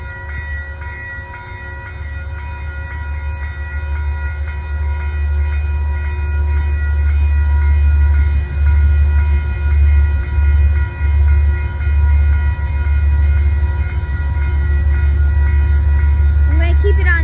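A Conrail freight train rolls into Peekskill station with a loud, continuous low rumble and grinding of wagons passing close by, building and holding steady throughout, no voices audible.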